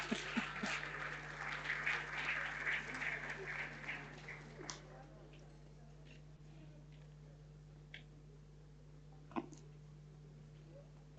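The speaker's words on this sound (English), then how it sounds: "Those hand claps are not enough." An audience claps at a gender equality certification and recognition award ceremony, with scattered, fairly faint applause lasting a few seconds before dying away into a quiet hall with occasional isolated taps.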